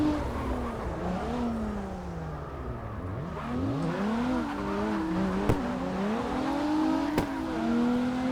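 A Toyota Altezza or Lexus IS 200 drifts at Mondello in the CarX racing game. The engine revs rise and fall in sweeping waves over a continuous tire squeal, loud and sustained, with a couple of sharp clicks.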